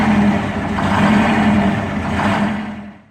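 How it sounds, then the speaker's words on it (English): A two-stroke diesel with a roots blower revs loud and close, a dense rasping drone with blower whine that holds steady and then fades out at the end. "The combination of the two-stroke firing pattern, the roots blower whine, and the exhaust valve timing created a distinctive high-pitched scream"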